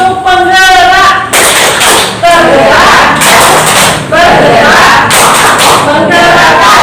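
A group in a teacher training session performs the tepuk penggerak, loud chanted voices mixed with rhythmic claps and thumps in several bursts, the crowd close and energetic.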